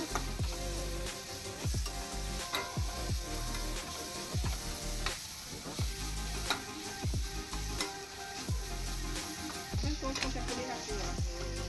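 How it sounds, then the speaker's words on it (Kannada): Grated coconut sizzles in hot oil tempering while a spoon scrapes and stirs repeatedly in an irregular rhythm, close up and fairly quiet. "ಒಗ್ಗರಣೆನಲ್ಲೇ ಒಂದು ನಿಮಿಷ ಫ್ರೈ ಮಾಡ್ಕೊಳ್ಳೋಣ ಅದನ್ನು"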